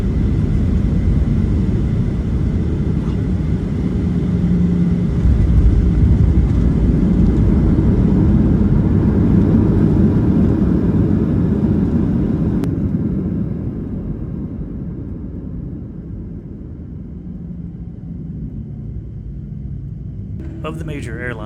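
Aircraft engine during a flight near Juneau, Alaska, a steady low rumbling drone heard from inside the plane that eases to a quieter, even hum partway through.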